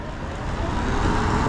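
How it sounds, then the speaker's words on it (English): A city bus rolling up through Los Angeles street traffic, heard as a steady, fairly loud broadband engine and road rumble that builds slightly toward the end, with no voices over it. "we got a bus coming"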